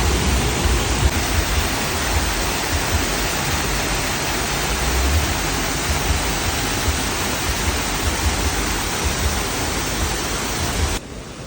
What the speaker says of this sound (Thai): ตรงนี้เขาเล่นน้ำได้นะครับนี่ครับ เด็กๆก็กำลังเล่นน้ำครับ